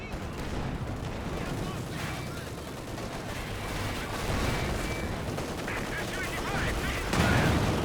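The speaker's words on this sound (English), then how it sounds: "Looks like now got the artillery barrage over here as well." Artillery barrage in Company of Heroes 2, continuous distant booms and crackling gunfire layered into a dense battle roar, swelling louder near the end, with a commentator speaking throughout.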